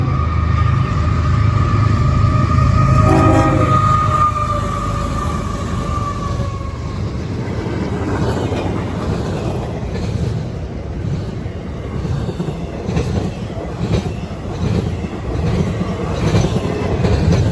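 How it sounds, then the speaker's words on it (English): CSX I-008 freight train hauled by two GEVO locomotives in Berea, Ohio: a loud, sustained engine roar with a brief horn blast early on, then steady rumbling and clacking of freight cars rolling past. "This time it was a very late I-008 carrying its usual power of 2 CSX GEVOs."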